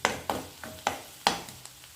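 A spoon taps and scrapes through tomato gravy masala frying in oil, five or six quick soft clicks in an uneven rhythm over a faint sizzle, close but quiet.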